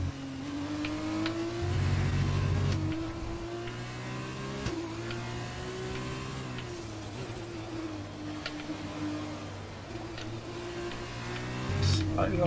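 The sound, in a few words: F2 race car at Monza in F2 Challenge video game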